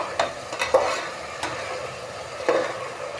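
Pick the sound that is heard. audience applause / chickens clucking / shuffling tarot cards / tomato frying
tomato frying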